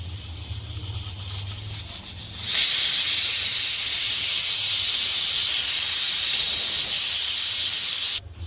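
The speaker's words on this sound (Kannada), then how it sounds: "ಕುಕ್ಕರ್ ಲಿಡ್ಡನ್ನು ಕ್ಲೋಸ್ ಮಾಡಿ ಒಂದು 3 ವಿಸಿಲ್ ಬರ್ಸ್ಕೊಳ್ಳೋಣ" A pressure cooker cooking egg biryani on a stove: low hum, then at about two and a half seconds a loud, steady rush of hissing steam that holds for several seconds before cutting off abruptly.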